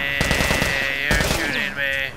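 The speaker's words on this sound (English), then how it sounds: "Don't shoot me anymore. Stop shooting me." Rapid bursts of automatic gunfire from The Last of Us, two loud clusters of shots in quick succession with game sounds between them.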